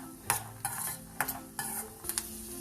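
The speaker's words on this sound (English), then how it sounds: "add peanuts, cumin seeds and coriander seeds into this. Saute this till peanuts are fried." Peanuts with cumin and coriander seeds sauteing in a little oil, heard as quiet bursts of scraping stir strokes at an uneven rhythm over a soft, faint sizzle.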